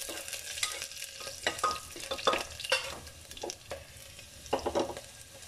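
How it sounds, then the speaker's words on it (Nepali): Cumin seeds and chopped onion fry in a pan, a quiet steady sizzle broken by irregular spoon scrapes and taps as they are stirred. "जिरा फ्राई गरेको छु"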